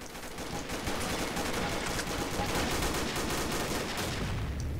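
Rapid automatic fire from a CZ Scorpion EVO 3 A1 submachine gun in Combat Arms gameplay, a dense steady stream of shots lasting several seconds, loud and continuous.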